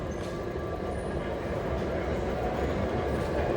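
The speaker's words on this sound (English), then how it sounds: "Here comes the last silver line to New Carrollton" The last Silver Line metro train to New Carrollton arrives at an underground station, a steady loud rumble and rolling roar of wheels on rail, continuous and close, with no talk.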